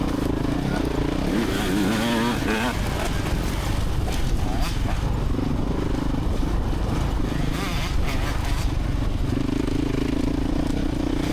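Dirt-track motorcycles at a hare scrambles race, engines roaring loud and continuous as riders blow past close by, with rough mechanical clatter throughout.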